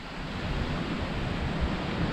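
Waves washing steadily onto a sandy beach on the Black Sea at Ordu, Turkey, a continuous broadband surf roar with some wind, no voices.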